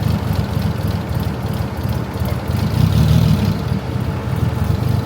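A Nissan 240SX with a swapped RB engine, running on two-year-old gas in limp mode, idles roughly and unevenly with a low, choppy, pulsing rumble that stays steady and close throughout.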